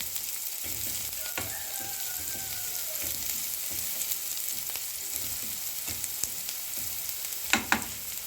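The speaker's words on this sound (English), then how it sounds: "I'll stir it." Onions seasoned with salt and black pepper fry in a pan with a constant, even sizzle, broken by occasional stirring scrapes and a couple of louder knocks near the end.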